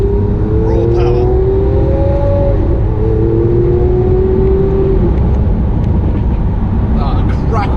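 A Lamborghini Aventador S with a big naturally aspirated engine drones loudly and steadily, its pitch climbing over the first few seconds under a constant roar of road and cabin noise.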